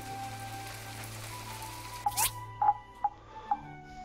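Rainfall in the farming game My Time at Portia, a steady soft hiss of rain with several distinct droplet-like plinks and a brief whoosh near the middle, no talking.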